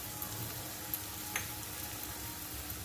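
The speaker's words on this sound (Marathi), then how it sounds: "थोडं हिंग घालून घेते त्यानंतर हा मी मालवणी मसाला घालते गरम मसाला" Asafoetida and Malvani garam masala sizzle in hot oil for a val papdi bhaji, a steady close frying hiss with a couple of faint pops and no talk.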